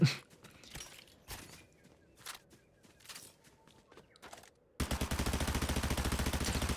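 SMG gunfire during a Fortnite fight, with sparse shots and footsteps at first and then a loud, sustained rapid burst of fire.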